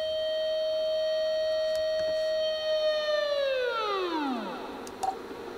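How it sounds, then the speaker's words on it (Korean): Flood warning siren sounding outdoors during heavy monsoon rain at a house in Japan: a loud, steady multi-tone wail holds for several seconds, then slides down in pitch and winds off, with distant background noise. "어? 사이렌이 왜 울리는 거지?"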